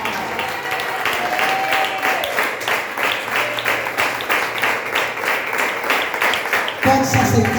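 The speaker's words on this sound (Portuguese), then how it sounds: "Aplauda ao Senhor Jesus" A church congregation claps together in a regular rhythmic beat, loud and even, with voices rising over it near the end.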